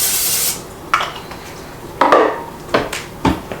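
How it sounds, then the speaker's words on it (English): A spray of cooking oil hisses into a pan on the stove, one strong burst at the start followed by a few short clatters and bursts of handling noise close by. "Spray it down with some ham oil."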